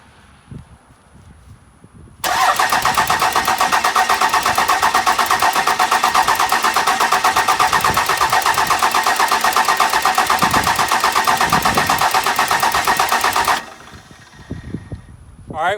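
A 12-valve Cummins diesel engine cranks over on the starter for about eleven seconds, a loud, steady, rapid rhythmic churning that starts and stops abruptly, with quieter shop noise before and after.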